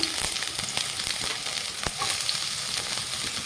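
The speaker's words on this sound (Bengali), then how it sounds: "তো পেঁয়াজটাকে আমি হালকা ভেজে নেব" Chopped onion frying lightly in a little oil in a pan, a steady close hiss of sizzling with faint scattered crackles throughout and no talking.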